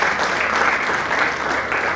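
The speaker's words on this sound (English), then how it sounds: "Let's give another round of applause." Audience at a book launch applauding steadily, a dense sustained clatter of clapping hands filling the room from start to finish.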